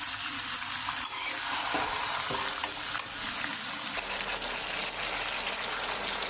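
Meat frying in a pan gives a continuous close sizzle with occasional stirring scrapes, steady and fairly loud throughout, no one speaking.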